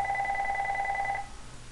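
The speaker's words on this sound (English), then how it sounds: "Sorry about the phone in the background." A telephone rings once in the background, a steady two-tone electronic ring lasting about a second before it cuts off, leaving quiet room noise.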